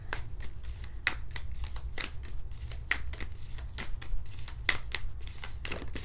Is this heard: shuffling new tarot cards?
yes